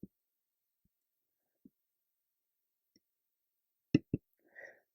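Mouse clicks while working in PyCharm settings: a few soft, isolated clicks spaced seconds apart, then a crisper, louder pair in quick succession near the end, followed by a brief faint rustle, in an otherwise quiet room.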